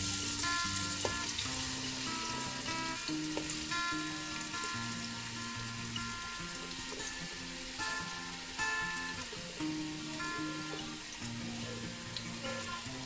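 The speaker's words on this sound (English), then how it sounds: "I will add my onions" Onions fry in palm oil in a pot for garden egg stew, making a continuous, moderately quiet crackling sizzle over a steady background hum, with no talking.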